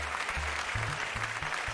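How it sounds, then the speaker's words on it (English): A late-night talk show studio audience claps steadily, a busy patter of applause at moderate level while low hums and tones sound beneath it, with no talk over it. "Please hold your applause until the tweet has been entered."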